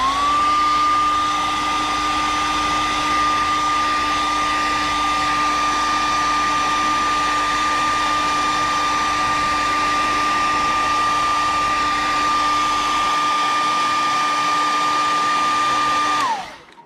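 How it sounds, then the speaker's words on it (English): A hair dryer blows steadily on paint coating a fishing lure, a loud, even whine and rush held for about sixteen seconds before switching off abruptly, with no talking. "Hair dryer."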